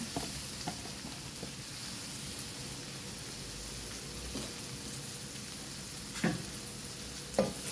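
Cabbage stir-fried for pancit bihon hisses in a steady sizzle, with occasional soft scrapes and clatters of a utensil tossing it, the loudest knocks near the end, close by and without talking.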